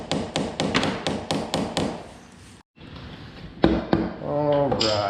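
A valve cover comes loose on a BMW R1200RT/LC motorcycle: a rapid series of sharp metallic taps, a short silence, then a few more knocks and scraping clatter as the cover is worked off.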